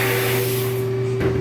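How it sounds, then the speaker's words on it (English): Abrasive blasting of a gun part before KG Gunkote coating, a steady loud hiss of blasting media with a constant machine hum underneath, continuous and alone. "So those are the quick steps how you want to blast a part and prep it for anodizing, or for painting."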